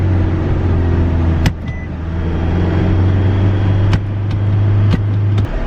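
A hired moving truck drives with a steady loud engine drone while the driver changes gears, with the pitch shifting and sharp clicks at each shift.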